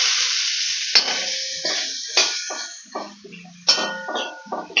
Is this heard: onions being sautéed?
yes